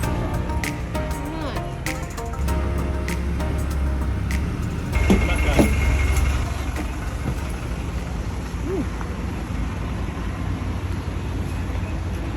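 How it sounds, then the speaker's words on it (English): Steady low engine drone and road rumble inside a local bus heading to a market in Fiji, continuous throughout, with a brief louder surge partway and occasional faint background voices. "We headed on the local bus to head to the market."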